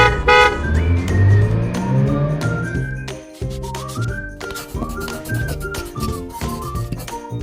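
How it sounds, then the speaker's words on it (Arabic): A car drives past with a steady engine rumble, then short tonal horn toots ring out over it before a melodic background continues; no one talks. "سيارة،"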